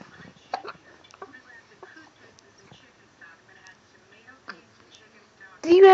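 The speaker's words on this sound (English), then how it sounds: "Do you have the hiccups?" A person with the hiccups gives a string of short, sharp, spaced-out gulps at irregular intervals, faint and close, ending in a sudden louder burst.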